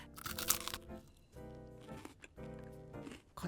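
Bites into a crispy wafer-coated caramel ice cream bar give sharp, crackling crunches close to the microphone, followed by quieter rustling and munching.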